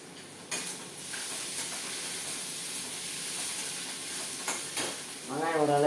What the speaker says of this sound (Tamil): வெங்காயம் ஓரளவுக்கு வதங்கிடுச்சு. இப்போ கீரையை போட்டு வதக்கலாம்.